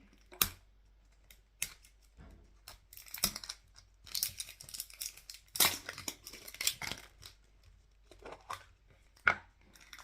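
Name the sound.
opening a plastic toy surprise ball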